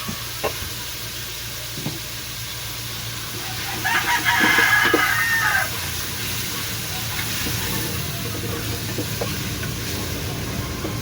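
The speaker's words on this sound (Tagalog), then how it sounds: "Ang ingay ng mga manok sa labas." A rooster crows once in the distance amid the clucking of chickens outside, over a steady sizzling hiss of sopas cooking in a pot.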